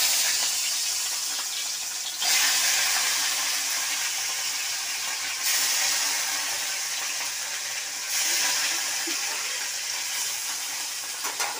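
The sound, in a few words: fish frying in a pan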